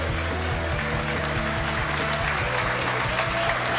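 A studio audience at a mall-hosted evening talk show gives a standing ovation for a football player, dense sustained clapping and cheering, loud and steady throughout with a faint hum of music underneath.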